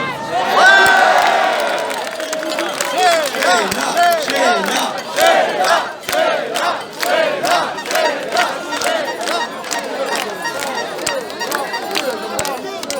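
Protesters at an anti-lockdown rally shout and chant together in a loud, rhythmic series of crowd bursts, with sharp repeated cries and claps punctuating the roar throughout.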